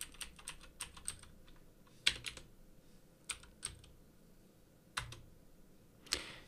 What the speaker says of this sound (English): Type in our password for the